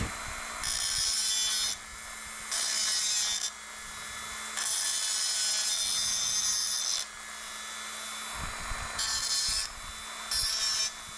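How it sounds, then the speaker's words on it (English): A Dremel rotary tool deburring an aluminium nose rib runs in several bursts of high whining grind, separated by short pauses, close and fairly loud, with no talking. "The Dremel makes quick work."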